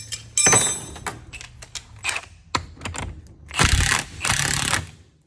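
A ratchet tightens a bolt while a BMW F01 rear air suspension bag is rebuilt, giving several close bursts of quick, sharp clicking separated by short pauses, with no talking.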